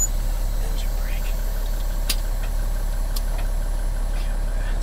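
A cold-started 1997 Kenworth T800 semi truck with a CAT 3406E diesel engine idles with a steady, loud low drone and a few sharp clicks, under low background speech.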